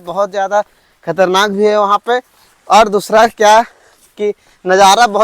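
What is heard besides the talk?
No distinct noise like a dog, phone or traffic.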